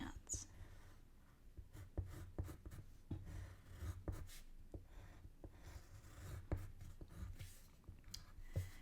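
A pen scratches out gray pants on paper in short, scratchy strokes that repeat in an uneven rhythm, close and quiet.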